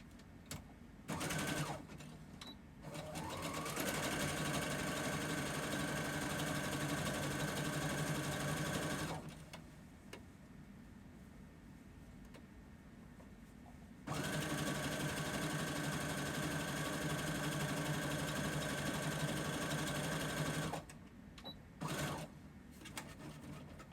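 Close, steady whir of a sewing machine stitching a dress lining, in two long runs of several seconds each, with a quieter pause between them and short clicks and stops at the start and end.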